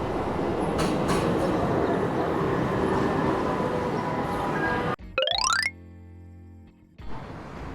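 An Istanbul metro train rumbles loudly along the track with a dense, steady roar, then a rising electronic tone, a sustained beep and a door-closing chime follow as the ride pauses.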